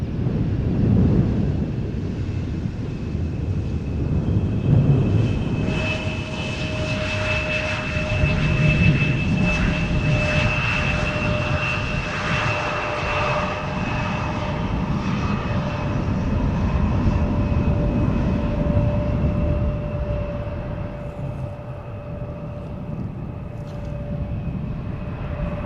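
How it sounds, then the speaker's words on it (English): A KLM Embraer 175 jet lands at Schiphol Airport with no reverse thrust, a loud, steady engine roar and whine running throughout, buffeted by wind noise and easing slightly toward the end. "This is KLM flight 1352, Embraer 175, arriving from Prague in the Czech Republic."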